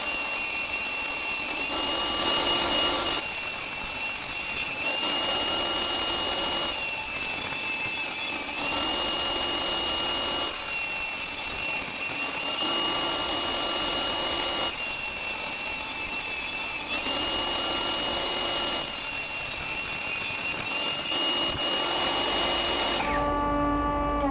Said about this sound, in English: I continue to cut the 8mm thick pieces into 2cm wide strips.